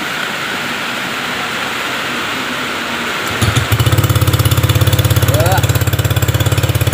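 A motorcycle fitted with a homemade racing exhaust sits quiet for about three seconds over faint background noise, then fires up and settles into a loud, steady, deep-throated idle that carries on to the end.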